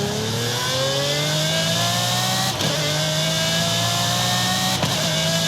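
Pagani Cinque engine in the Forza Horizon 5 racing game, a loud, close engine revving steadily with rising tones and two brief shift breaks, no voices.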